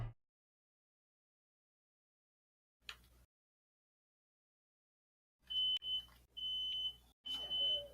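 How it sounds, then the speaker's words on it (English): A smoke or fire alarm in a secondary school setting gives several sharp, high-pitched beeps in separate bursts after a long quiet stretch, with faint room noise between them. "Yeah, it's the fire alarm."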